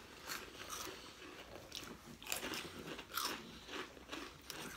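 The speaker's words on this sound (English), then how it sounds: "I'm eating Takis too." Close, crunchy chewing of spicy Takis rolled tortilla chips, with steady biting and crackling crunches filling the clip.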